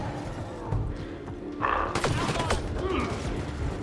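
Sniper gunfire from outlaws in the video game Mass Effect Andromeda, with a few sharp shots and whooshing impacts in the middle of an ongoing game soundscape, while a person talks over it.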